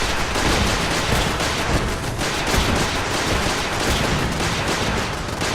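Base defenses in Fallout 4 firing in dense, rapid volleys, a loud sustained barrage of overlapping gunshots and bursts with a brief spoken remark underneath.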